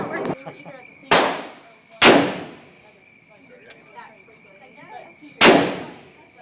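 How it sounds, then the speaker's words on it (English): Three or four loud, close shotgun blasts fire at irregular intervals, each a sharp crack with a decaying boom. "Is the shotgun not working either at the same time?"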